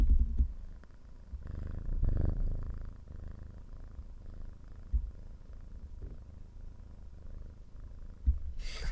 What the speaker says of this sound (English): Can you guys hear the cat purring,